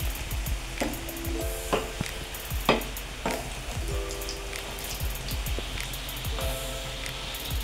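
An egg noodle patty fries in a pan at home while rain falls, giving a steady crackling sizzle with scattered pops and short clinks of a utensil throughout.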